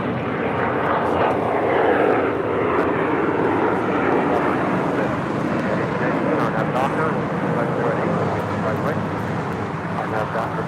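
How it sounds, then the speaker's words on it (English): A United Airlines Boeing 757-200 jet, 25 years old and delivered to Continental Airlines in 1997, roars steadily at loud, close range with a sustained broadband engine rush at a busy airport. "United Airlines Flight 2226 and the 757-200, 25 years of age, delivered to Continental Airlines in August of 1997."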